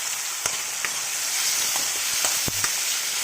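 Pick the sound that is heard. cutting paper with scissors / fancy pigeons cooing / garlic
garlic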